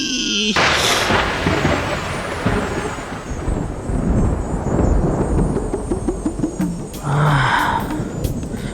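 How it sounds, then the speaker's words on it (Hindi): Thunder cracks loudly in a mythological Hindi TV drama, a sharp boom followed by a long rolling rumble, then a second lighter crack near the end over stormy ambience. "बिजली कड़की है।"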